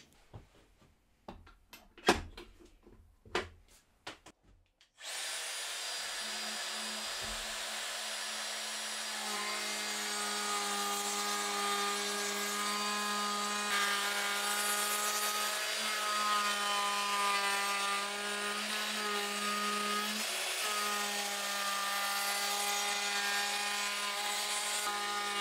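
A woodworking router fitted with a Freud roundover bit rounds over wooden edges, a steady loud whine with a few scraping knocks at the start before the motor settles into a continuous, even drone.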